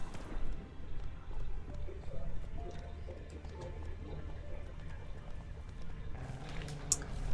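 Hooves clip-clop as a horse moves in a video game, with an occasional whinny, all fairly faint and steady over several seconds amid soft background game sounds.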